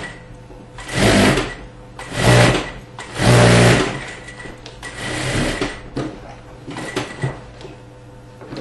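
A sewing machine runs in several loud bursts, stitching two fabric layers of a ladies' suit together one presser-foot width from the edge, with quieter pauses between runs.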